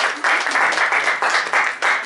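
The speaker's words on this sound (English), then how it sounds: "let's give them a round of applause for joining us" A round of applause from a group at a student ambassador info session, dense steady clapping with brief dips that carries on throughout.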